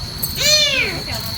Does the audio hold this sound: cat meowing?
yes